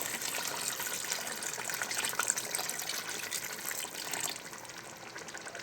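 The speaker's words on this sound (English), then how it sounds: "This is the water." Water pours steadily into a pot of egusi soup on the stove, a continuous gushing splash that eases off slightly near the end, with no talking.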